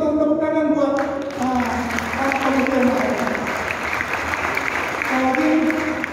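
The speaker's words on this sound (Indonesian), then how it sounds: "Untuk itu, tepuk tangan buat" Crowd applause at an anniversary charity event rises into a steady wash of clapping, with a voice speaking over it throughout.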